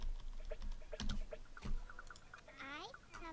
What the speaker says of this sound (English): I like the little sound the keyboard makes when I type on it.